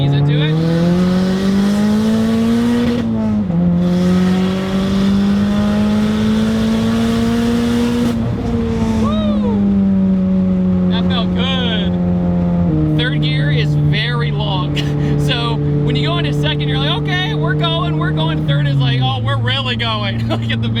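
A big-turbo Mazdaspeed 3 hot hatch accelerating hard, its loud engine note climbing steadily through the gears with brief dips at each shift, heard from inside the car while people talk over it.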